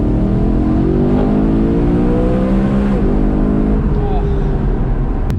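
BMW E92 M3 fitted with a new loud aftermarket exhaust, engine note rumbling and revving near the microphone with rising and falling pitch, a steady dense drone throughout with a brief rev change midway.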